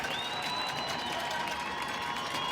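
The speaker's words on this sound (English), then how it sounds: "Dan Drop trying to get the crowd into it." A high school football crowd roars and claps continuously before a fourth-and-one play, a dense, steady wall of cheering with a whistle-like tone running through it.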